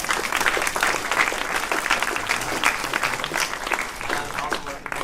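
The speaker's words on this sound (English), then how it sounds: "You deserve a round of applause." Applause from a convention panel audience at New York Comic Con, steady and dense throughout with crowd murmur beneath, no break in the clapping.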